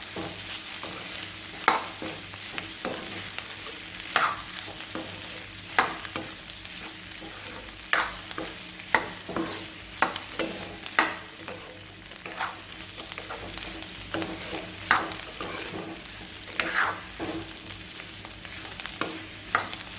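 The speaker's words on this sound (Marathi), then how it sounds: "त्यामध्ये आपल्याला कोथिंबीर घालायची आणि ती पण आपण चांगली मिक्स करून घेणार आहोत" Dry potato bhaji with coriander being stirred in a pan, with a spatula scraping and turning the food in irregular strokes over a soft, continuous sizzle.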